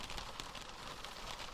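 Rain falling outside a car at night, a faint, soft, even patter.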